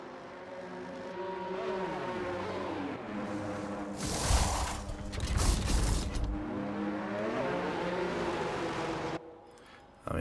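A Mercedes Formula 1 car makes a pit stop in a racing game at Azerbaijan: a high engine whine drops in pitch, a noisy burst of pit-lane mechanical clatter follows, then the engine climbs again as the car pulls away.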